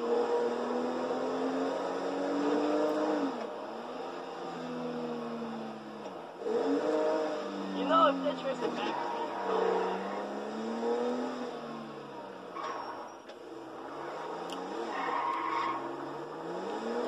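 Car in the video game GTA 5 driving with engine revving and tyres skidding, a continuous mid-level game engine drone rising and falling in pitch with a few squealing bursts.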